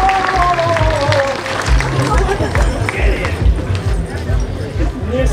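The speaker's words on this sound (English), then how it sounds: "Let's have a huge round of applause for the Wood Witch." An outdoor crowd at a costume parade claps and cheers, a dense steady wash of applause and babble lasting throughout, with a voice speaking over it and a bright whistle-like tone sliding down at the start.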